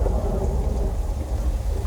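Simulated thunderstorm effect on the Universal Studios Hollywood tram tour, a loud continuous wash of rain with deep low rumbling, close and steady with no voices.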